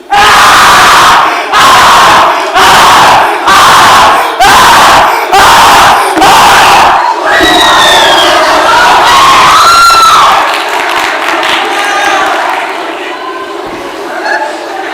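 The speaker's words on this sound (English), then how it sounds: "then came the screams." A stage-play chorus screams loudly, cutting off and restarting in a series of rhythmic bursts before the cries break into wailing, overlapping voices that slowly fade.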